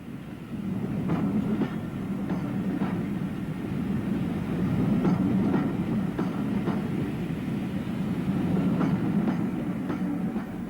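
An E1 steam locomotive departs hauling narrow coaches, rolling steadily past with a low rumble and regular clicking from the wheels, fairly close and continuous; no voices.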